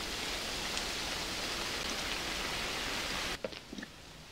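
Rain falls in the Roblox video game, a steady even hiss of downpour that cuts off abruptly near the end, leaving a few faint knocks and clicks.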